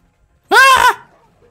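A goat in the survival video game Ark Survival Evolved gives a single loud, close bleat lasting about half a second, alone against near silence.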